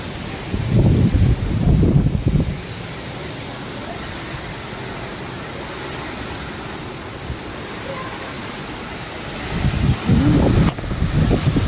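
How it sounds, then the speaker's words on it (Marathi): Strong stormy wind roars and buffets the microphone throughout in Konkan, with louder gusts near the start and again close to the end. "किती वारा सुटला आहे"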